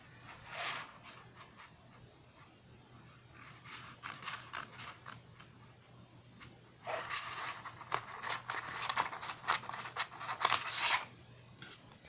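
Scissors cutting a piece of transfer paper for a Cricut Joy scrapbook project, close and quiet, with scattered snips and then a denser run of crisp cutting and paper rustle.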